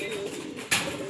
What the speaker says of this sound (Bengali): দেখে নিন পায়রা দুটো